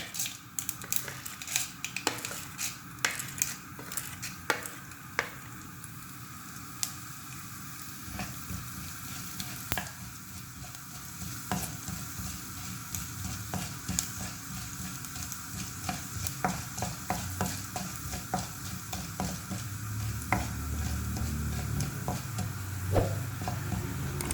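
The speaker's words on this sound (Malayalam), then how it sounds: "അടുത്തതായി ഉഴുന്ന് പരിപ്പ് ഇട്ട് കൊടുക്കാം" Urad dal sizzles and crackles in hot oil in a pan, with a steady, moderately loud fry and repeated scrapes and clinks of a stirring spoon.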